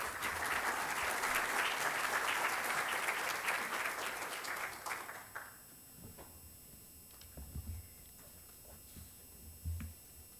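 A seminar audience applauds warmly, a dense burst of many hands clapping for about five seconds that stops abruptly, leaving a quiet room with faint scattered knocks and shuffles.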